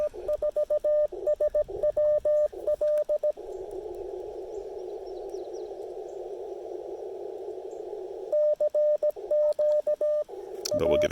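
Steady single-tone Morse code sidetone from an amateur radio CW transmission during a park activation, sent in rapid keyed bursts at start and end with a long unbroken tone in between, over faint background hiss.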